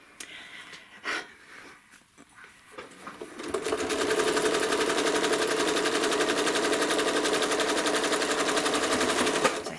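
A home sewing machine stitches quilt blocks with rulers, starting with a few quiet handling taps before launching into a loud, fast, steady mechanical rattle of needle strokes that runs unbroken to the end.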